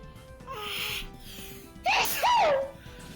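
A single close sneeze bursts out suddenly after a brief rising intake of breath, followed by a short vocal exclamation, loud against a quiet background during a Pokemon Colosseum game stream.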